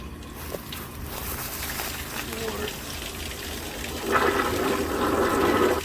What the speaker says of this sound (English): You can see I got the water flowing right now.